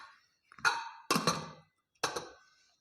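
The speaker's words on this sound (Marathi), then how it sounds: "आता हे कुकरचे झाकण लावून आपण हे शिजवून घेऊ।" A metal pressure cooker lid is set on and fitted, giving three separate clinking, clattering knocks with brief ringing tails in a quiet kitchen.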